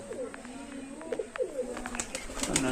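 Teddy pigeons coo repeatedly at close range in a home loft, soft low throaty rolls overlapping one another, with faint chirps and light background rustle.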